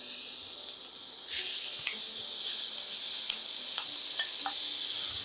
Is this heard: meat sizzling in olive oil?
yes